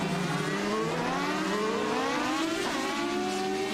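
Race cars lapping Monaco in a racing video game, a loud continuous engine whine with pitch climbing and shifting as cars accelerate past, several engines layered close together.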